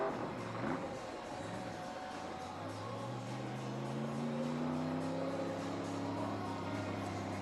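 NASCAR race car doing a burnout at the 2024 Würth 400, heard as a sustained engine drone whose pitch climbs steadily, fairly faint and distant against a broad background wash.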